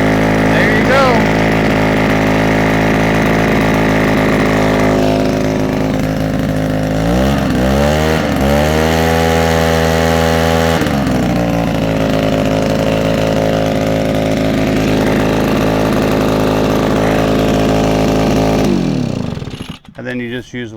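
A JellyMoving 65cc two-stroke gas backpack leaf blower runs steadily and loudly close by, its engine note dipping and rising through a throttle change midway before it cuts off near the end; a voice talks over it.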